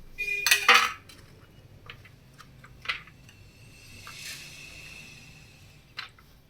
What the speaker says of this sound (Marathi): आता त्याच्यात छोट्या छोट्या आतमधल्या पूर्ण बिया काढून घ्या